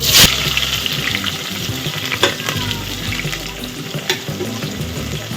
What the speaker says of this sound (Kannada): ಈರುಳ್ಳಿ ಚೆನ್ನಾಗೆ ಗೋಲ್ಡ್ ಕಲರ್ ಬರೋವರೆಗೂ ಚೆನ್ನಾಗಿ ಫ್ರೈ ಮಾಡ್ಕೊಳ್ಬೇಕು